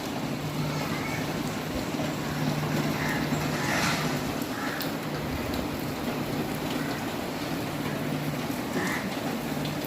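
Steady heavy rain pours down outdoors during Cyclone Remal, a dense constant hiss with a low hum underneath and no clear voices.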